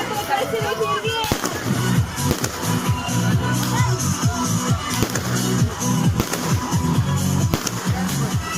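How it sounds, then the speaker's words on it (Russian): Fireworks burst over a Christmas tree celebration in Aldan, Sakha Yakutia, in December, with rapid strings of crackling pops and booms rolling on continuously while a crowd chatters and voices talk underneath. "Вот такой красивый фейерверк."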